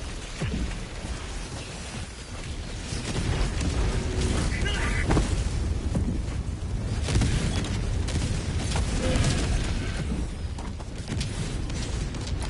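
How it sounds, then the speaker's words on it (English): A napalm barrage rains down in Helldivers 2, a continuous roar of overlapping booms and crackling blasts rolling on without pause, dense and heavy from start to finish. "Well, napalm barrage time."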